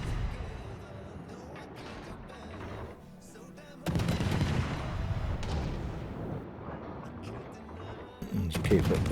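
Naval gunfire aboard a cruiser in the World of Warships video game, muffled booming salvos and rumbling explosions over continuous game noise, with someone talking over much of it.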